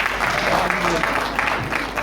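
Audience clapping at a Hindi kavi sammelan poetry gathering, a short burst of dense applause from a crowd, fairly loud and continuous, mixed with some voices.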